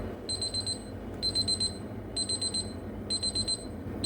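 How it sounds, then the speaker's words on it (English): A TFA digital BBQ meat thermometer alarm, triggered at 85 Celsius, beeps in repeated bursts of rapid high-pitched chirps, four clusters spaced about a second apart, clear over a quiet room. "It will sound an alarm in 85 Celsius."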